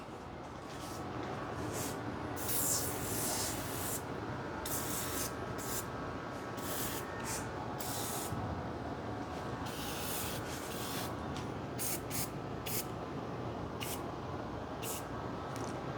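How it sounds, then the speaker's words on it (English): WD-40 bike degreaser sprayed onto bicycle gears and derailleur, a steady close hiss lasting the whole stretch with light rubbing and scuffing noises over it, no voices. "just want to degrease your gears and your derailleur, I use WD-40 bike degreaser"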